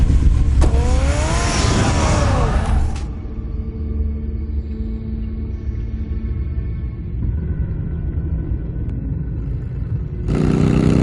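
A car engine driving, a steady close rumble running throughout with a brief higher whine at the start and a louder surge returning at the end, no voices.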